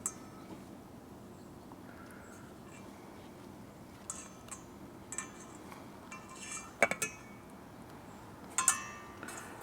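Utensils clinking against dishes while chicken is dipped in egg wash for cordon bleu, scattered light clicks and taps that grow sharper toward the end over a quiet room.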